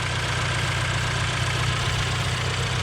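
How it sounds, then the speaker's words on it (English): A turbocharged Toyota GT86 engine idles with a steady low rumble and a faint continuous injection pump ticking layered over it, close by and unbroken. "You can hear our injection pump crickets a little bit."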